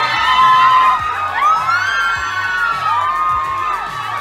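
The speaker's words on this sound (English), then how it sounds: "Filipino fans are always loud" Filipino fans at Jiwon's fan meeting in Manila scream and cheer loudly, high shrill voices rising and falling in waves, a dense crowd roar sustained throughout.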